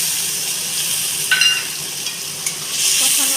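Fish curry masala with turmeric and salt being sautéed in a pan: a steady, bright sizzle of frying with a few scrapes and clinks of the spoon stirring, close and fairly loud, no talking.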